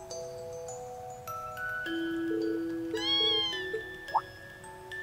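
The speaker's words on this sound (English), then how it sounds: "Just grab the damn cat!" A kitten meowing in Trails of Cold Steel, one short mewing cry near the end over sustained musical tones and game background sounds.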